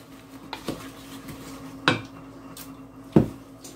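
A Lodge cast iron skillet pie pan is handled, giving three distinct metallic clanks and scrapes spaced a second or so apart, close and fairly loud over a quiet kitchen hum.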